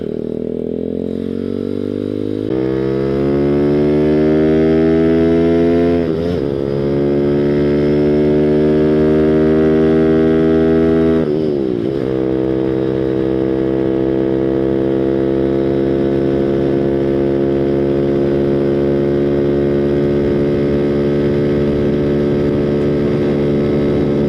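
A Grom clone motorcycle revs and accelerates close by, its engine note climbing through gear changes with brief dips as it shifts, steady and loud throughout with no talking.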